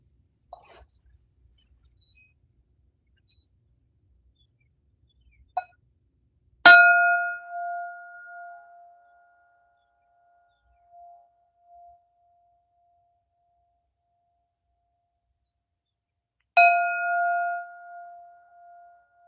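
A meditation bell rings twice in a quiet room, each strike clear and bright with a long, slowly fading shimmer, the second coming about ten seconds after the first.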